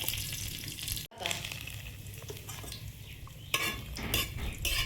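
Dried red chillies fry in oil in a kadai, a continuous close sizzle with spatula scrapes and metal clinks against the pan, brief gap then louder crackling near the end.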